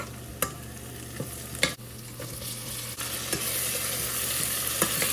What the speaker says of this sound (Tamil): வெங்காயம் நல்லாவே வதங்கி வந்துட்டுது முக்கால்வாசிக்கு எடுத்து வச்ச பச்சை மிளகாயும் இதில் போடுறேன்